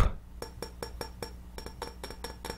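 A glass top of an essential oil diffuser being handled, giving a run of light, evenly spaced clinks and taps close by, faint but distinct, with no talk.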